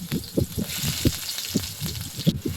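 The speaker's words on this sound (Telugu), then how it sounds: "దాంతోపాటు పచ్చిమిర్చిని వేసుకొని ఇది బాగా మగ్గే వరకు వేయించుకుందాం" Onions and green chillies fry in oil in a pan, giving a steady close sizzling hiss broken by soft, irregular stirring thumps throughout.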